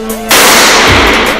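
A single loud pistol shot from a Glock 17 Gen 4 or Glock 21 Gen 4 at a shooting range, a sharp blast with a trailing reverberant decay.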